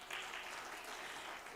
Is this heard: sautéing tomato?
no